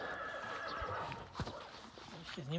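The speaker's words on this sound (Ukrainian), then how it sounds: "Така от кобила. Краса." A draft mare whinnies outdoors, a loud neigh with a falling, wavering tail near the end, over steady background noise and brief hoof sounds.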